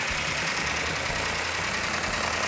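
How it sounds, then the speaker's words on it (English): A newly built car engine with a large street cam idles steadily up close, with a faint ticking clatter from the valve train running through the constant rumble. "Got a little bit noisy valve train, which is normal on a new engine."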